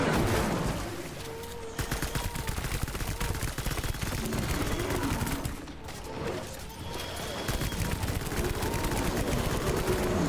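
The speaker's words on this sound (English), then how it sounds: "they stopped just in time for me to just start shooting." Dense, continuous video game gunfire, rapid automatic bursts packed together with only brief dips, loud and busy throughout with no clear talk over it.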